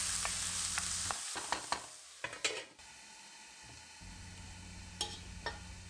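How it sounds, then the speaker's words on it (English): Two medium onions saute in olive oil in a pan. A steady sizzle comes close up, broken by scraping stir strokes and clinks around the middle, and there is a brief quieter patch before the frying noise returns. "I'm going to saute 2 medium-sized onions."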